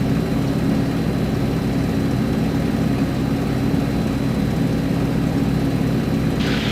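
A light aircraft's engine drones steadily and loudly along the runway, a constant low hum with no breaks.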